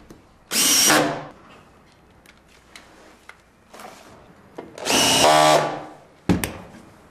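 A SPAX screw is driven into a wooden pillar by a power drill in two loud whirring bursts, with faint ticks and clicks in the quiet gaps between them.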